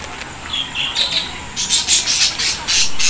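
Lovebirds squawk and chirp in a cafe garden, with a steady run of short, bright calls that grow busier and louder toward the end, heard alone without talk.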